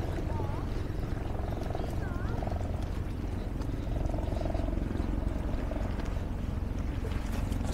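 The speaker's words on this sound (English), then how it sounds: "Helicopter coming." A helicopter passes overhead during a walk along the Stockholm waterfront near historic ships, a steady low drone and rumble under city and water ambience with a few bird calls.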